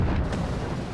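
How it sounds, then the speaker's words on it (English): Deep rumbling blast of a vehicle's fuel exploding in the World War II strategy game Steel Division: Normandy 44, a loud low roar that dies away slowly within a second. "Ah, fuel explosion."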